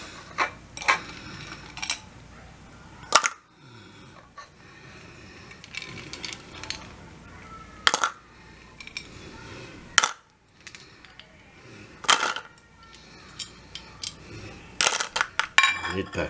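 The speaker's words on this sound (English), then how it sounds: "I'll now put the ice in." Ice goes into a cup on a scale, with scattered sharp clinks and clattering knocks spread out over about sixteen seconds. The sounds are close, with quiet handling noise between them.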